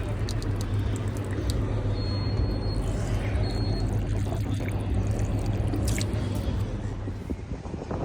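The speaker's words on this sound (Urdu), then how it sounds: "پھر پانی آتا ہے." Water gushes steadily from a push-button public drinking water tap on a rain-soaked Dubai street, a continuous, fairly loud pouring with traffic noise around it.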